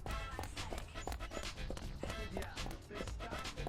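Dog in the video game Deadly Premonition, heard as a rhythmic, breathy panting close by, repeated quickly and steadily over a dense, busy game soundscape.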